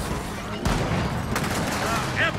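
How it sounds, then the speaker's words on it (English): Gunfire in the Gears of War 4 co-op campaign, with rapid, dense bursts of automatic fire and impacts running throughout amid game noise, with a voice speaking over it. "Who the hell's shooting me?"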